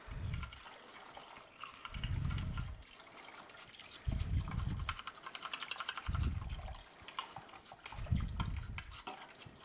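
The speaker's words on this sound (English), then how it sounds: "I like to do it inside and out, and then run a little water through." Water runs through the screen of an Omega Juice Cube 300S juicer during cleaning, splashing and trickling in five rhythmic surges about two seconds apart, close and moderately loud, with no talk.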